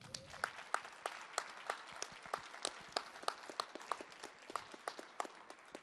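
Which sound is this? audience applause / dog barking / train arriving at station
audience applause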